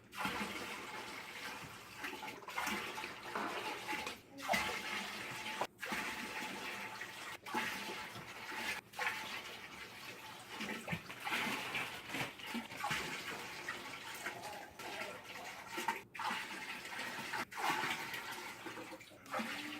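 Cold water gushes steadily into a huge pot for bone broth, a continuous rushing flow heard alone for about twenty seconds.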